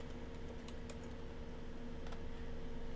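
Keystrokes tapped on a computer keyboard while entering an ssh-keygen command in a Bash terminal, a few quick light clicks in short bursts over a steady background hum.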